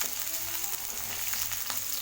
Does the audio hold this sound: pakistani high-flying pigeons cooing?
no